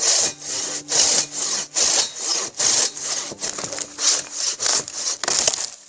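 A Katanaboy 650mm folding saw cuts through a tree in about a dozen quick, loud rasping strokes, a steady back-and-forth rhythm of the teeth biting into wood, close by and with no talk.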